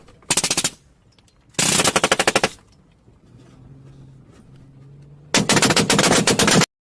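Rapid gunfire in three separate bursts of fast, evenly spaced shots, loud and crisp, separated by quieter stretches with a faint low hum.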